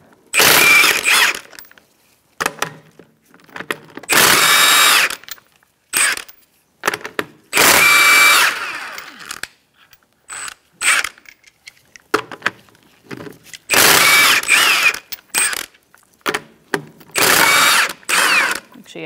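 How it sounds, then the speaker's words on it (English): An impact wrench fitted with a 21 mm socket zips lug nuts off the front wheel of a 2004-2009 Mazda 3 2.3L, several loud ratcheting bursts separated by short pauses and clicks. "Using a 21 millimeter socket, we're going to remove our lug nuts"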